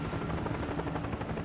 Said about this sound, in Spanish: Trajeron el helicóptero con un cable de 60 metros de largo y levantaron el fuselaje en una sola pieza.